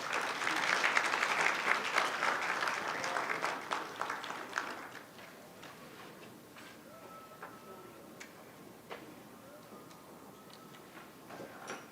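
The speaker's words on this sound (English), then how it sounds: "A huge round of applause." Conference audience applauding at a book launch during an Islamic economics and finance gathering, dense steady clapping loud for the first five seconds, then thinning to scattered claps that fade out.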